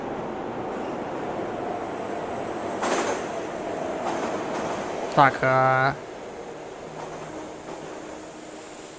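A ghost train in a Minecraft film rumbles past, with a brief burst of rhythmic clacking and a horn-like tone for about a second near the middle. Steady background noise and talk run underneath.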